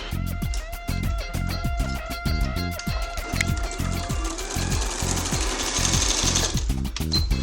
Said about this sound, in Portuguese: Vou costurar mais 2 quadradinhos, direito com direito, com o meu tecido.